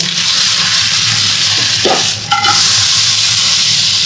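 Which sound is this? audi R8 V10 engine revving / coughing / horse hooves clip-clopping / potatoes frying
potatoes frying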